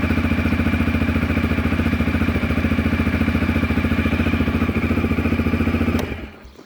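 2016 CFMOTO CFORCE 500 HO ATV engine idling at about 1650 to 1700 RPM, a loud, close, steady rapid chugging throb that cuts off and fades in the last second.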